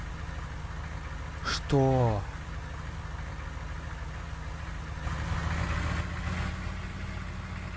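A car engine idling in the game Prehistoric Kingdom, a constant low hum running throughout, with a short voice and a rising tone near the start and a slightly louder stretch later.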